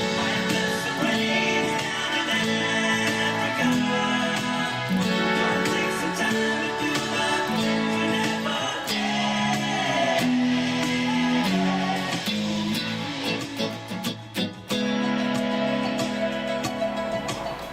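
The hook of a song played on electric guitar, a repeating chordal riff with a steady rhythm and sustained tone, continuous and moderately loud.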